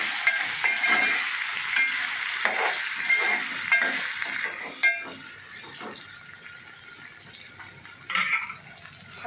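Taro curry (chamagadda pulusu) frying in a pan as tomatoes go in, a steady sizzle under repeated spoon stirring and scraping, with a brief clink of cookware near the end.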